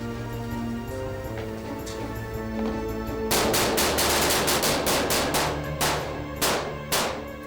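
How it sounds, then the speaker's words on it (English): A rapid burst of gunshots crackles in a sharp, uneven rhythm, loud and close, following a low sustained musical drone with no talking. "Six bullets later, Masseria was dead"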